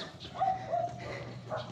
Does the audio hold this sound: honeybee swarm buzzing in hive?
no